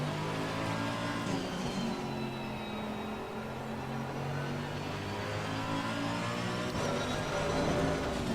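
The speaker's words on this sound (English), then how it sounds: "I love the sound of the car so much." A race car engine in the Assetto Corsa Competizione sim racing game, on track at the Nürburgring, revs loudly and continuously, its pitch climbing and dropping through gear changes as the car accelerates, with no voices over it.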